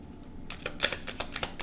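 Tarot cards being shuffled by hand, a run of quick papery riffs and taps in close succession after a short quiet start, close and fairly soft.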